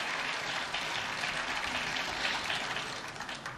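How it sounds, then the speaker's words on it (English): Canned applause plays over a snooker broadcast as a steady, even wash of clapping with no breaks, fairly quiet in the background. "whoever's controlling the fake applause is at least keeping their cool"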